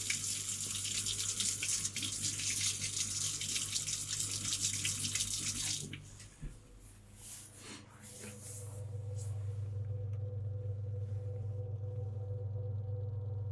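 Hot water from a tap fed by a Worcester Bosch 28si boiler gushes in a steady loud hiss, then cuts down sharply to a lower, quieter running flow with a soft hum beneath.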